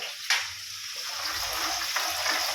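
A tempering of spices dropped into hot oil for a Gujarati dish, bursting into a loud broadband sizzle that holds steady for a couple of seconds, with no talk over it.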